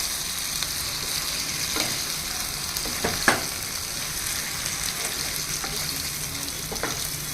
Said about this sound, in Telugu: ఇప్పుడు బాగా కలిపేయాలన్నమాట